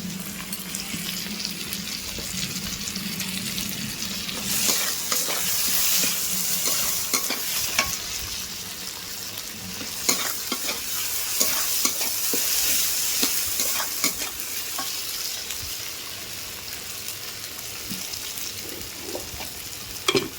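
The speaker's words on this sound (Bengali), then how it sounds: "তো দেখো এখানে আমার পেঁয়াজ টমেটোটা খুব সুন্দরভাবে ভালো করে ভাজা হয়ে গেছে" Onion and tomato fry with a steady sizzle in a pan, with scraping stirs and clinks of a spoon throughout, close and continuous with no talking.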